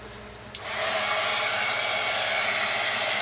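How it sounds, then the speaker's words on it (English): A heat gun blows hot air over wet paint on an art journal page, a steady loud roar that starts abruptly after a brief click and holds constant to the end. "I'll show you what happens when I use my heat gun"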